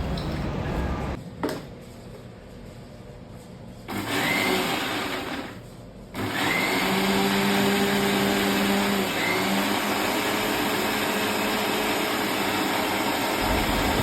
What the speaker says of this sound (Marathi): गेलो मिक्सर चालू करायला तर चला ग्राइंड करूया आपण